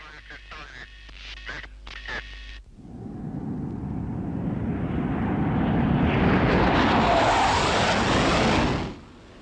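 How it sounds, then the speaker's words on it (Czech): Czechoslovak MiG-21 jet fighters flying a landing circuit, a loud jet roar that swells over several seconds and then cuts off, preceded by a voice speaking over music. "První roj letounů MiG-21 se zařazuje do okruhu."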